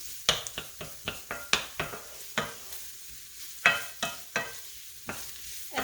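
Jalapeno pepper and onion sauteing in rendered hamburger fat, a quiet low sizzle under a string of sharp spatula scrapes and taps against the pan, roughly two per second, close by and alone.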